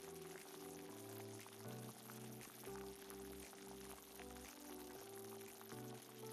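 Small cauliflower pieces deep fry in hot oil in a pan on a stove, a soft, steady bubbling crackle throughout, faint and without talk.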